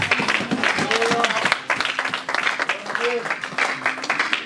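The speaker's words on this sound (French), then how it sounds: "Est-ce que nous pouvons acclamer le Seigneur?" A church congregation applauds and cheers in praise during a service, dense steady clapping with voices mixed in throughout, loud and close, dipping briefly midway before swelling again.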